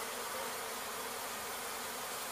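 A honey bee swarm drones steadily during a removal in Weslaco, Texas, the first swarm of 2017 with three queens; the buzzing is faint and continuous, with no voices.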